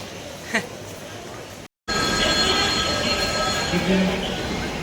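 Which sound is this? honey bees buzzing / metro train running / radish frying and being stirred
metro train running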